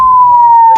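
An ambulance siren sounds loud and close as a single steady high wail, with a short burst of street noise at the very end, on a blocked street.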